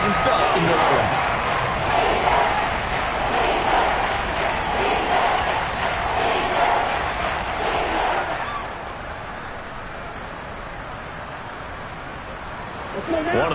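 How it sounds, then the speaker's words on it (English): Broad stadium crowd roar swelling at a college or pro football game before a big third down, loud and sustained for about eight seconds then easing to a steadier murmur. "the crowd getting into it as we come up on a big 3rd down"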